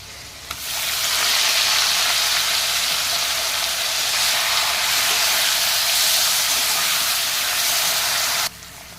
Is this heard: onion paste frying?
yes